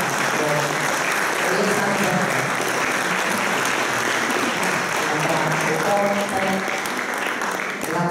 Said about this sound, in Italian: a cui voglio fare un applauso.